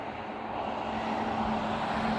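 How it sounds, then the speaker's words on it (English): A snow plow truck drives by on a winter road, producing a steady, moderately loud engine rumble and road hiss with a low hum that swells slightly as it passes. "That was a plow truck"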